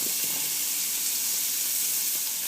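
Butter and quartered mushrooms sizzling in a pan for steak Diane, a steady close hiss of frying that holds evenly throughout with no talk.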